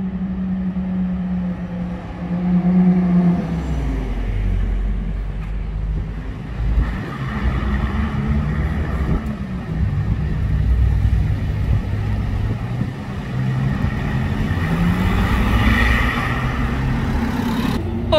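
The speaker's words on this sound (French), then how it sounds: "Voilà là la Ferrari." A Ferrari sports car drives past on a street in Monaco, a steady loud engine roar that swells and fades over about eighteen seconds amid general traffic noise.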